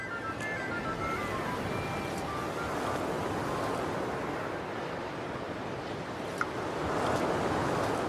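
Steady ocean waves wash and surge as a broad, continuous roar, moderately loud and alone, with wind blowing through it and no voices.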